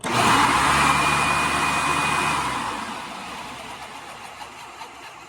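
A Hoover PowerDrive Supreme upright vacuum cleaner winds down after switch-off, its loud motor whine fading over about three seconds into quieter background noise.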